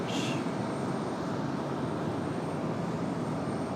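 A JetBlue airliner with bright orange wingtips passing at Raleigh-Durham airport, a steady broad roar of engine noise that stays loud and even throughout, with no voices.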